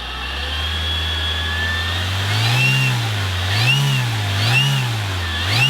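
A Detrum Power10 3715 brushless motor, throttled by a servo tester, spins up with a rising electric whine that swells and dips in repeated waves, loud and close.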